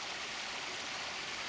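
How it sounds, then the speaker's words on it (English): Water from a village sewage outlet pours into a beck near the River Swale, a steady broadband rush of flowing water running unbroken and fairly close throughout. "this is the sewage outlet from the village into the beck"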